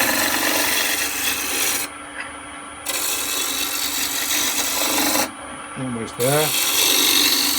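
Spindle roughing gouge cutting a small wooden blank on a lathe for a threaded trinket box, a steady close rasping scrape broken by two short pauses, with a brief spoken comment near the end.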